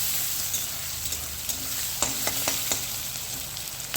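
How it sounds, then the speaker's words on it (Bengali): Onions sizzle and crackle lightly frying in a hot pan for chicken kosha, with a few sharp clinks of a spoon stirring against the pan partway through. "পেঁয়াজটাকে আমি একটু ভাজা ভাজা করে নেব"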